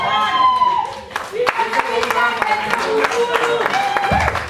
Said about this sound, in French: Nous accompagnons la sœur Tania avec les applaudissements.